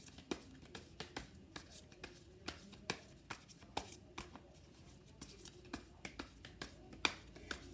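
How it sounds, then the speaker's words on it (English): Oracle cards being shuffled by hand, a quiet series of crisp riffling snaps and flicks repeating at an irregular rhythm, close up and alone. "what I'm going to do is shuffle and just see which cards will pop up"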